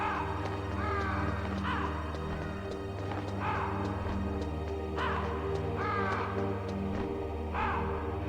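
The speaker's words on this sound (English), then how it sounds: "I hear birds." Crows cawing in the Metal Gear Solid video game, several harsh caws repeating every couple of seconds over a steady low in-game ambient hum, with no talking.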